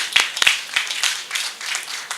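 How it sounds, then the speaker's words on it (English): An audience claps at a preeclampsia talk, a few sharp distinct claps at first, then thickening into a steady patter of scattered applause of moderate loudness. "this is a good place to clap for us"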